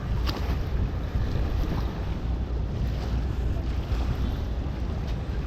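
Wind-driven river waves roll and wash steadily onto a sea-like beach at Narisha, Dohar, near Dhaka, making a continuous loud surging roar with gusty wind buffeting the microphone and no talk.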